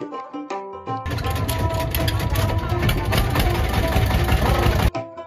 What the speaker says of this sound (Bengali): আমাদের ট্রলারটি চালু হওয়ার পর বেশ কিছু যাত্রী নিয়ে ছুটছি চরের উদ্দেশ্যে